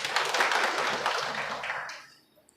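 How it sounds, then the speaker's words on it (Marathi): An audience at a workers' gathering claps to welcome honoured guests, a dense burst of applause that holds steady and then fades out over about two seconds. "आपण टाळ्या वाजवून एकदा स्वागत"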